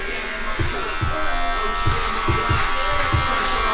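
Electric clippers with a number 4 guard buzz continuously and close up, with a rhythmic series of soft thumps as they pass through hair.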